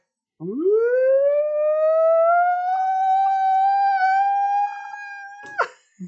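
A person's voice imitates a siren, a long rising then steady wailing tone held for several seconds before breaking off abruptly.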